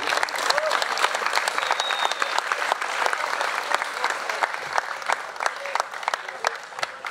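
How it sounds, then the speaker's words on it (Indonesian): Sustained applause from a school audience honoring the teachers at an evening student prayer gathering in Jakarta, steady dense clapping throughout, fairly close and loud. "Mari kita berikan aplaus kepada Bapak dan Ibu."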